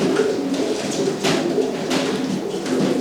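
Pigeons coo softly and repeatedly at close range, low throaty calls overlapping against faint background noise.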